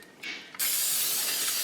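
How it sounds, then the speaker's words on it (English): Non-stick cooking spray is sprayed into a hot pan, heated to about 400 degrees, for cooking tilapia in Lodge cookware: a short, softer hiss, then a loud, steady spray that runs on without pause. "we're going to spray a little non-stick"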